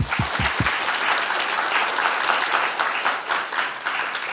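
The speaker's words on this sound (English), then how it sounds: "let's give them a big applause" An audience at a rule-of-law forum applauds two speakers being introduced; after a couple of brief low sounds at the very start, full, sustained clapping continues evenly until the end.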